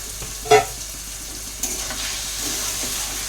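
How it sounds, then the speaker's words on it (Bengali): Khichuri being stirred in a pan, a sharp scrape near the start and another soft one later over a steady low sizzle, close and fairly quiet, with no talking. "ভালো করে মিক্স করে নেব।"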